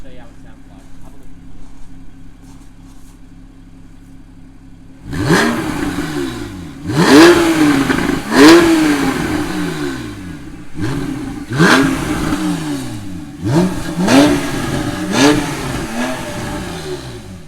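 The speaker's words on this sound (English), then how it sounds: "We'll do a little bit of revving for you as well so you can hear what the car sounds like." A 2012 Porsche 991 911 Carrera S with its sports exhaust switched on sits idling, then blips through about seven sharp revs that rise and fall back, loud and close.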